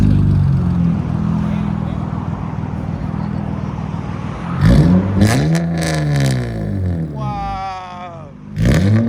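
A 2004-2008 Acura TL with a 3.2L V6 idles with a low, steady exhaust rumble, then revs hard several times, each sweep climbing and falling loud and close. Brief voices come in near the end.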